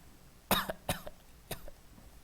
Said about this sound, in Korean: 나 이거 살에 들려서 기침하는 거야